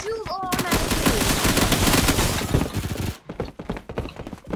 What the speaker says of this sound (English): My gun is semi-auto. It doesn't shoot automatically.